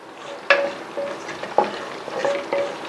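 Chilli and coriander powder being stirred in a pan for fish curry: a spoon scrapes and clinks against the pan in a few separate strokes, close by, with a soft frying hiss underneath.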